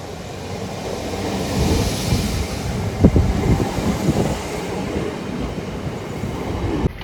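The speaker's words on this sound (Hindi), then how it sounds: "चलो भाई, फिलहाल हमारी ट्रेन आ चुकी है।" A passenger train pulls into a station in India, with a loud rolling rumble, rhythmic clatter of wheels over rail joints and a brief sharp squeal partway through, steady and close without talk.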